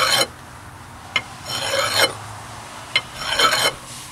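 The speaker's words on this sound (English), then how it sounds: "So I'm gonna file that down just a little bit." A big metal file rasps across a metal part during a Honda Accord alternator replacement, giving a few slow, scraping strokes with short clicks between them, close and alone.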